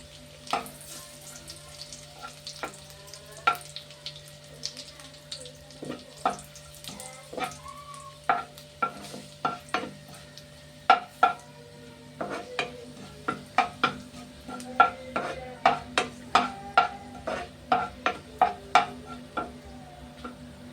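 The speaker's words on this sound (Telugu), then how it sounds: "ఎండుమిరగాయలు వేస్తున్నాయండి" Dried red chillies crackle and pop as they fry in hot oil in a pan, sharp irregular spits growing busier over time above a steady low sizzle, with occasional utensil clinks and no talking.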